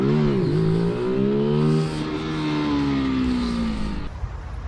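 A Zontes U1 125 motorcycle engine revving hard for a wheelie, a close, loud rising-and-falling whine with strong harmonics that climbs, holds steady, then drops off near the end.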